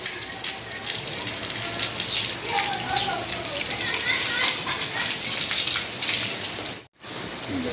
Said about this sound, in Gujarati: ધીમી તારે વરસાદ આવે છે પણ આવે છે જરૂર